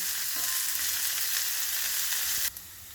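Spiny gourd (boda kakarakaya) frying in a pan gives a steady, close hiss of sizzling oil with faint stirring. It cuts off abruptly near the end.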